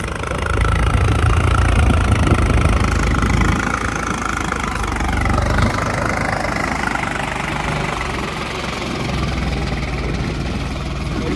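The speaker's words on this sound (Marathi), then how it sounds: "ट्रॅक्टर पलटीनागर चालू होतं, ते पाहायला आलो" A tractor engine runs steadily while ploughing a field, a loud, close mechanical drone with a low knocking rumble that rises and falls slightly under load, without any voices.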